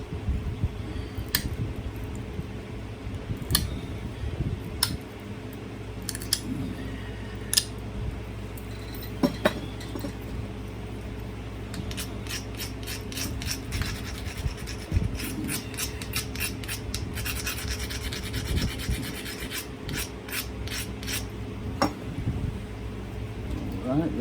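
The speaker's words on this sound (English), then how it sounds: "I'm gonna pressure flake them down instead of grinding them down with my grinder" Sharp little clicks and snaps come from pressure flaking a stone Benton point by hand, scattered at first and then bunching into quick runs, over a low rubbing background with some muffled talking.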